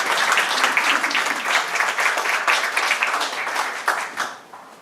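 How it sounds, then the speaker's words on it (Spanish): Warm applause welcoming an architect and historian to the podium at a history lecture, many hands clapping densely and steadily before thinning out and stopping near the end. "Lo recibimos con un fuerte aplauso al arquitecto Parcival Castro Pita"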